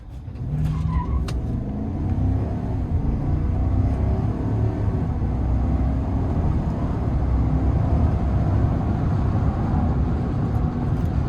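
A 2021 Chevrolet Silverado High Country with a 6.2L V8 pulls away in sport mode under moderate throttle, giving a loud, continuous deep engine roar and road noise that build steadily, with no talk over it.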